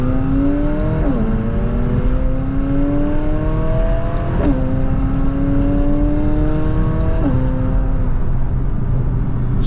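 A McLaren sports car engine accelerates and shifts gears repeatedly, its pitch climbing then dropping three times, with tire and road rumble underneath, heard from inside the car.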